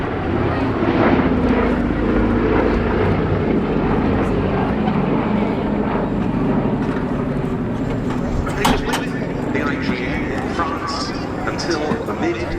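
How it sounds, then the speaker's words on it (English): An Avro Lancaster and the B-17 Sally B fly in formation at a Battle of Britain airshow at Duxford, a loud, steady piston-engine drone with wind buffeting the microphone throughout. "Lancaster B-17 in formation."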